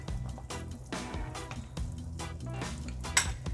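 Cooked pumpkin pieces are lifted out of a pot of Jamaican chicken foot soup, with repeated close metallic clinks and scrapes of a utensil against the pot in an uneven rhythm.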